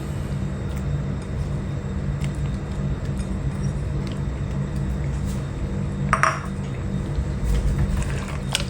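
Paksiw na pata, pork hocks braised in vinegar with banana blossom, gets stirred in a cooking pot: a steady hiss runs throughout, with occasional light clinks and scrapes against the pot.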